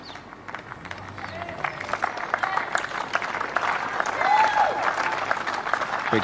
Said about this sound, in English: Big cheer from quite sizable Australian audience here